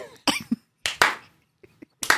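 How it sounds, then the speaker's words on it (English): A clapping noise from a barn in the Mountain Monsters show comes as a few short, sharp claps in uneven clusters with silent gaps between them, close and fairly clear. "What could make a clapping noise like that in the middle of nowhere?"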